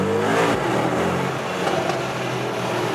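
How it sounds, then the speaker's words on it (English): A Mercedes GLE 63 S AMG Coupé with its optional performance exhaust revs inside a tunnel, a loud, close, reverberant engine roar that swells and holds throughout. "This optional performance exhaust is really something."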